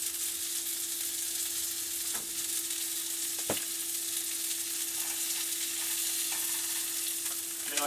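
Salmon burgers seasoned with Old Bay fry in a pan, giving a steady close sizzle with a few sharp clicks and pops, alone with no talking.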